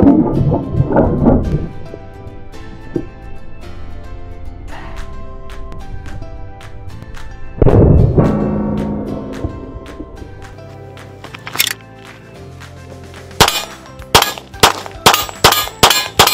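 A Hi-Point pistol's slide is racked one-handed, giving sharp metallic clacks and clangs with ringing resonance, followed by a quick burst of loud snapping clicks near the end, close and loud.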